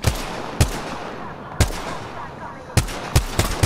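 Gunfire in the video game Apex Legends: several sharp, loud shots arrive in bursts, a few isolated reports and then a quicker cluster near the end, over a steady background hiss.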